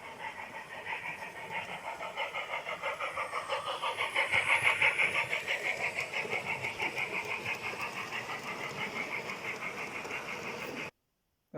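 A model train locomotive runs steadily along layout sidings, giving a continuous close whirring motor hum with rapid rhythmic clicking of wheels over rail joints, swelling slightly midway and then cutting off abruptly near the end.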